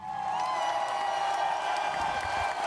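Studio audience clapping and cheering on a stock-talk podcast, a continuous wash of applause with whoops, loud and close, lasting the whole moment.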